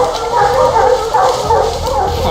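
Several hunting dogs bark, yip and whimper excitedly while tangling with a black bear that has come down from a tree, loud and close, continuous and overlapping.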